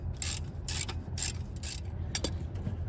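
Ratchet loosening an 11/16 coolant drain bolt on the pipe of a Cummins ISX diesel engine, a run of quick clicking pulls in short bursts, close up with no talk.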